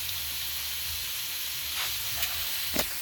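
Chicken and pork fried rice sizzles on a Blackstone griddle with a constant, close hiss of frying, broken by a few faint scraping clicks toward the end.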